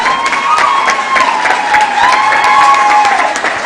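Audience applause at a moot court competition for a Kenyatta University presenter: a sustained burst of many hands clapping, loud and close, with a faint tonal whistle or voice running underneath.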